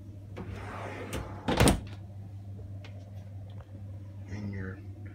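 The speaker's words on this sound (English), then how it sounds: "two pull-out drawers for the refrigerator also." Refrigerator pull-out drawers in a 2003 Prevost XL II motorhome slide open and shut, giving a sharp thunk and a few softer knocks over a steady low hum, with a voice briefly audible.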